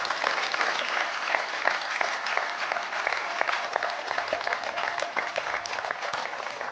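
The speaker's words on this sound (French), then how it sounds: "on peut les applaudir bien fort, s'il vous plaît" Audience applauding loudly after a hypnosis stage act, steady dense clapping from a large crowd that fills the whole stretch without letting up.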